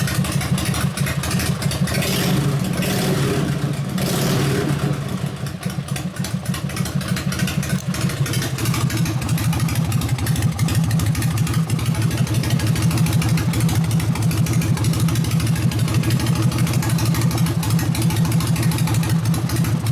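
A custom Harley Evo chopper, a rigid bobber, starts hard: uneven cranking and sputtering give way to a steady, close, rhythmic idle that keeps running with some mechanical clatter.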